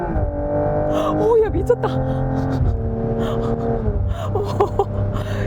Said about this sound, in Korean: 자, 그럼 속도를 낮추고 저속에서 고속으로 풀악셀!